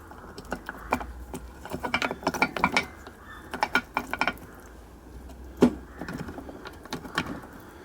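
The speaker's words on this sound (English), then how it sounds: "Now I'm just installing the gears there and just trying to line them up with the holes." Gears fitted into a Honda C70 engine clack and click in short irregular bursts of metallic contact as they are lined up, with one sharper knock partway through and no talk.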